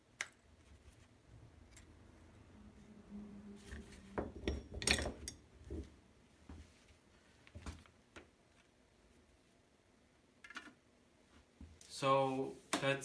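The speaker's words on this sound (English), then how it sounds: "I'm gonna put these screws in here." Screws going into a Kawasaki 440 carburetor, quiet scattered metallic clicks and ratcheting ticks in separate bursts, with a louder rattling cluster near the end.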